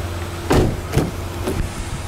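The sunroof of a 2013 Lexus RX350 opens with a low, steady electric motor whir inside the cabin. A few soft thumps and rustles punctuate it, and no one speaks.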